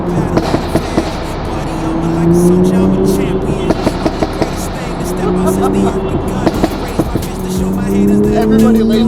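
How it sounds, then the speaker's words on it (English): A loud Toyota Supra engine roars and revs with echoing reverberation inside a tunnel, accompanied by sharp exhaust popping crackles and honking horns, as people talk over it. "we got a loud exhaust"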